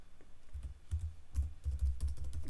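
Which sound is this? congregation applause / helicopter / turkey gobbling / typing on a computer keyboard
typing on a computer keyboard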